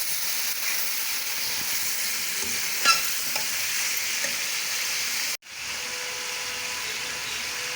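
Quail frying in a karahi with garlic-ginger paste, a loud continuous sizzle and hiss with faint stirring scrapes, cutting out abruptly for an instant before the strong frying resumes.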